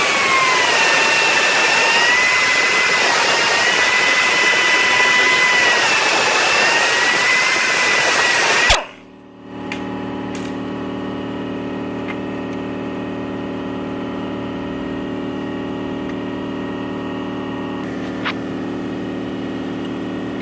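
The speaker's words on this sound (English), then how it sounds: "So I'm using my air grinder. I'm just going to stick this in here and hollow this out until it fits." An air grinder hollows out a part for a 1965 Mustang with a loud, high, steady whine for about nine seconds. It then cuts off abruptly, leaving a low background hum.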